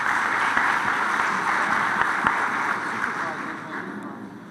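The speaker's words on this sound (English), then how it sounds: "Can we give him a big round of applause" Audience applause at a science congress session on commercial and rural development: a steady, dense patter of many hands that holds for several seconds, then slowly thins and fades toward the end.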